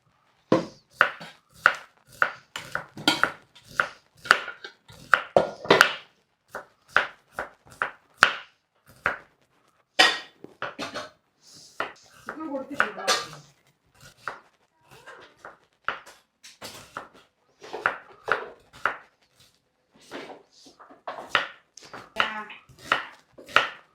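A knife chops ingredients on a board in a home kitchen, sharp, crisp strokes in quick bursts separated by short pauses, close and clear with no talking.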